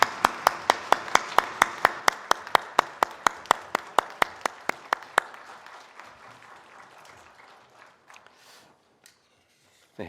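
A church congregation claps in unison at a Sunday worship service, a steady rhythmic beat of sharp, loud claps for about five seconds that then loosens into scattered, fading applause before trailing off into near silence.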